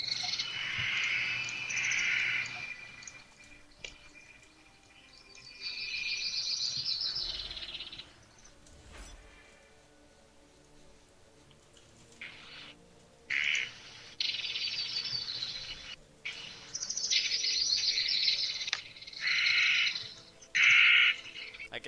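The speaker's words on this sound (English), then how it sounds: "The frogs and birds and Yeah, stuff." Jungle ambience in World of Warcraft carries chirping birds and croaking frogs in repeated bursts over a low background, fading in and out across the scene.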